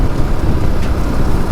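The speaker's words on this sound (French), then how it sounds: "Oh la vache, il y a plus de vent." Strong wind buffets loudly and continuously on a motorcycle ride up a mountain road, a dense close roar with no voices.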